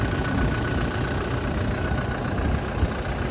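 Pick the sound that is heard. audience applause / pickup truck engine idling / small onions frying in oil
pickup truck engine idling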